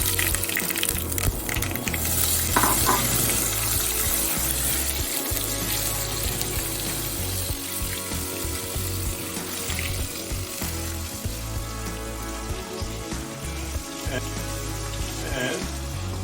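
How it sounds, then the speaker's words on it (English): Sesame seeds and ginger sizzle steadily in a hot pan, a constant broad frying hiss lasting throughout with faint stirring noises underneath. "now we're going to add on our sesame seeds. Give them a little stir. We're going to add on our ginger now."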